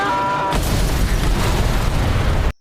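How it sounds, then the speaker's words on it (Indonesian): A film explosion erupts after a brief tonal lead-in, a loud sustained broadband blast and rumble lasting about two seconds before cutting off abruptly. "akibat ledakan itu pun"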